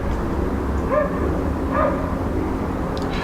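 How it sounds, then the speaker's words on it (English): A dog barks twice at a distance, short muffled yelps about a second apart over steady background hum. "Excuse the dog."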